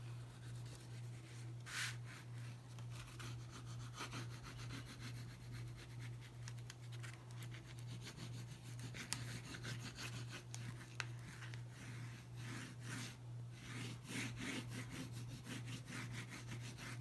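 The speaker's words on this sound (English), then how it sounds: "Give this a little burnish, especially around the edges." Steady rubbing and scraping as the paper edges of a hanging file folder journal cover are burnished by hand, a continuous close friction with a low constant hum beneath and no talk.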